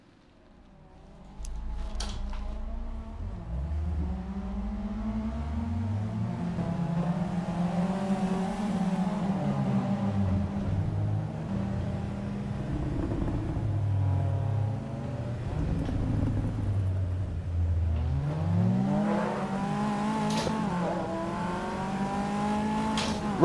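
Race car engine in Assetto Corsa Evo, driven with an H-pattern gearbox in a race from the pit lane, revving loud and close with repeated rises and gear-change dips over about twenty seconds, as other cars pass nearby.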